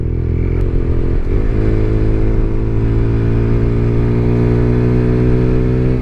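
An Apache motorcycle ridden on a mountain route in Spiti, its engine running steadily and loudly close by with a low throbbing drone and a slight rise in revs early on.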